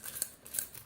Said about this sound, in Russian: Сыпем мелочь.